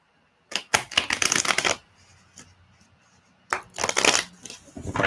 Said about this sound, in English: I'm just going to clear these cards